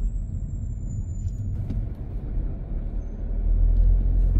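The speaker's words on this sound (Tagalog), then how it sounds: "Ganyan ka-traffic ang palabas ng BF Homes." Road traffic crawling out of the BF Homes subdivision: a steady low rumble of cars and engines, a brief high hiss like an air brake, and the rumble growing heavier toward the end.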